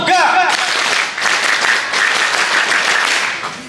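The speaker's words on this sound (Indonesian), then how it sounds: "Tepuk pramuka." Scouts doing the rhythmic scout clap (tepuk pramuka), a dense, loud burst of group clapping that goes on for several seconds after a brief voice at the start.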